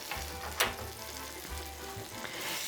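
Butter sizzles in a pan preheated on medium heat, a steady soft frying hiss with low hum, one brief louder crackle near the start, no talking.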